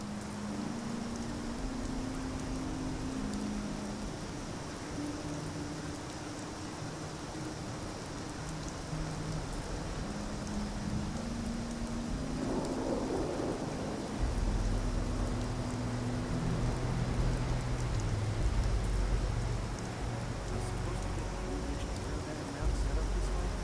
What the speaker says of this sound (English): Something soothing about the rain.